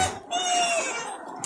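Cao Khanh chickens on a Vietnamese farm raised for sale, with a rooster's crow heard near and clear over a dense din of flock noise.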